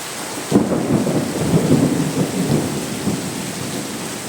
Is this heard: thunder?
yes